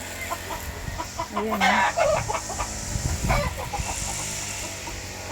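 Chickens cluck and murmur nearby in a farmyard, with a few short spoken remarks mixed in.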